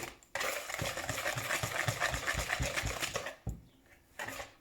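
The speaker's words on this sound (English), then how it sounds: "So whisk, whisk, whisk until all the flour lumps are gone." Pancake batter being whisked in a bowl: a steady run of quick, rhythmic scraping taps for about three seconds, close and fairly loud, then a pause, a brief burst and quiet.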